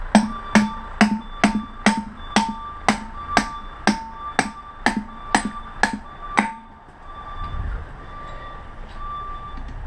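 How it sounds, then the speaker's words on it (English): Hammer blows strike a large copper motor being taken apart, about a dozen loud, evenly spaced metallic impacts ringing out alone, then stopping with faint handling noise after. "Swinging this hammer so much."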